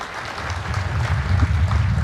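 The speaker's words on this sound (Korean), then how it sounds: "수상자들에게 다시 한번 힘찬 축하의 박수 부탁드립니다" A crowd at a military officers' commissioning ceremony applauds the award recipients, a dense, sustained clapping that swells slightly toward the end.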